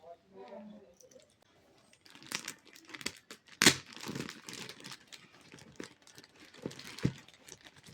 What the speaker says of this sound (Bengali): তাকে আনপ্যাক করতে গিয়ে অবস্থা খারাপ হয়ে যাচ্ছে